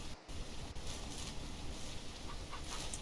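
Hens cluck near one of three backyard coops, steady and fairly close over a constant noisy outdoor background, with no talking.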